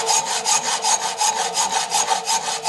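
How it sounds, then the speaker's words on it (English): A hand file working down the end of a motorcycle handbrake lever, rhythmic back-and-forth rasping strokes repeating steadily about four times a second, close and loud with no talk. "You grind down the lever, it helps to file it off a little bit."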